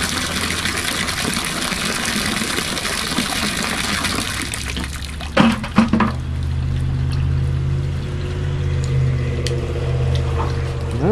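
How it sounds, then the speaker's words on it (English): A tap pours water steadily into a fish tank, gushing loudly at first, then cutting off after a few clunks and giving way to a quieter hum. "Oh, we should turn the water off."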